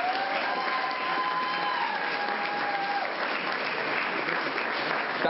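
A pageant crowd claps steadily and loudly for a guest on stage, the dense applause holding evenly throughout with faint cheering mixed in and a host's voice briefly audible.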